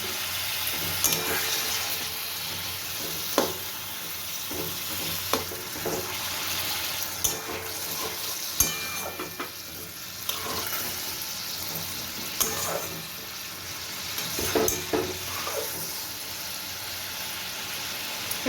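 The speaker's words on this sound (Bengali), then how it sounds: "আমি এই গ্রেভিটাকে দু থেকে তিন মিনিট ফুটিয়ে নেব" Fish kalia gravy bubbles and simmers in a pan with a steady wet hiss, broken by intermittent spoon knocks and scrapes against the metal.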